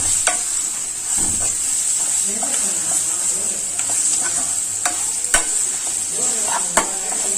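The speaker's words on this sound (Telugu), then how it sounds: "మ్యాంగో వేసేసుకొని ఇలా మిక్స్ చేసుకోండి." Mango mixed into rice for pulihora in a pan: steady close stirring and scraping over a constant hiss, with a few sharp utensil clicks against the pan.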